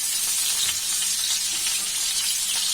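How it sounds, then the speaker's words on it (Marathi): Green chilies sizzle in hot oil on a griddle, a steady, bright frying hiss with faint crackles, close and continuous without any voices. "आता आपले हिरवे मिरचे जरा सावकाश, उडतले"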